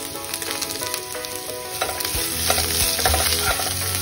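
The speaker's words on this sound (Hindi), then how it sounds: "ये डाल के इसको एक बार अच्छे से चला देंगे।" Carrot, capsicum, cabbage and green chili are stirred in a hot pan for veg Manchurian, a close sizzle with scraping spoon strokes that grows louder partway through.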